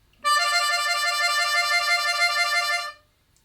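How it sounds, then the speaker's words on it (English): A harmonica warble, quickly trading between two adjacent notes, held as one bright, steady, reedy tone for about two and a half seconds, played alone. "move where we kind of shift between two notes quickly"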